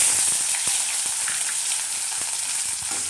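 Small onions sizzle in hot oil with a steady, close frying hiss that carries through the whole stretch, dotted with faint crackles and soft pops.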